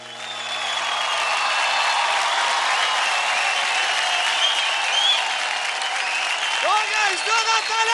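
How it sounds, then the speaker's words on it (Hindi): An audience at the Indian TV dance competition Dance India Dance applauds loudly and steadily, a dense sustained wash of clapping with crowd noise, while a voice talks over the end. "जोरदार तालियां हो जाए।"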